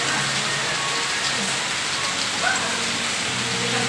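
Heavy rain pours down in a steady, dense wash of patter that holds at an even loudness throughout, with no break.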